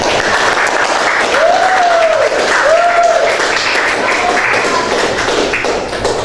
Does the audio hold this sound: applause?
yes